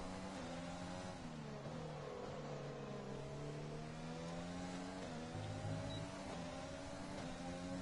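Race cars in an F1 video game at Zandvoort drone steadily with layered engine tones rising and falling as they accelerate and shift, a continuous loud mix of several cars with no talking.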